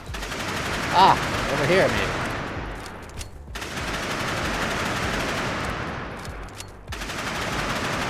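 Rapid gunfire and missile launches in the chaotic co-op shooter Nimrods, a dense, continuous barrage with a couple of louder bursts, while a player talks briefly over the din.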